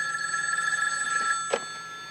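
A telephone bell rings steadily in a scene from The Fall Guy, an action-adventure TV series, holding a sustained, fairly loud electric ring with no talk over it.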